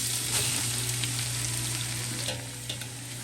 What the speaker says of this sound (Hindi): ये गाजर हम इस घी में डाल देंगे